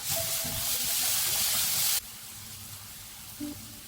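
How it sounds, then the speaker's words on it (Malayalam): Chilli tomato sauce poured into a pan of sizzling sausage fry: a loud, broad hiss of frying for about two seconds that cuts abruptly to a quieter simmering crackle. "നമുക്കിതിലേക്ക് കുറച്ച് ചില്ലി വിത്ത് ടൊമാറ്റോ സോസ് കൂടെ ഒഴിച്ചു കൊടുക്കാം."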